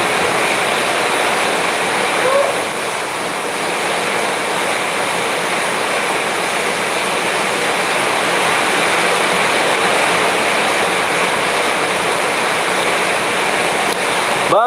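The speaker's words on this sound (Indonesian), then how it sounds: "ini hujannya kencang banget soalnya" Heavy rain pours down in a dense, unbroken hiss, loud and close, holding steady without any pause.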